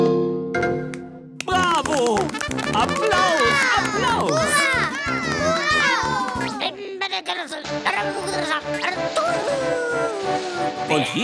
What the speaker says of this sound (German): Bravo! Applaus! Applaus! Hurra!